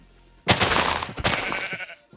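A sheep in a video game lets out two bleats in quick succession, loud and close, after a brief quiet start.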